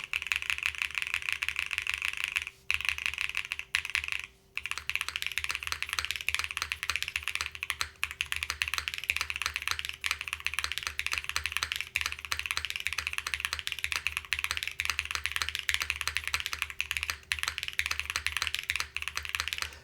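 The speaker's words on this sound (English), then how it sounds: "Let's see what this sounds like in using Keykobo keycaps." A Polygon-7 mechanical keyboard with Keykobo keycaps, soldered switches and no foam, is typed on steadily, with dense, rapid plasticky clacks and a few brief pauses over a low background hum.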